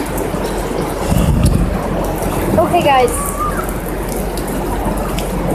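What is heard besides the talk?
heavy rain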